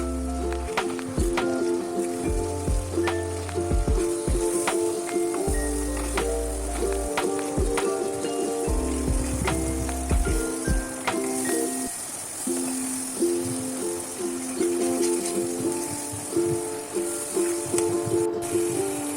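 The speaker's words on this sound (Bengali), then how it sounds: "এই মশলাটা তেলের মধ্যে দিয়ে খুব ভালো করে কষাবো" Spice paste for chicken curry fries in oil with a steady, close sizzling hiss. It runs under continuous background music with scattered clinks throughout.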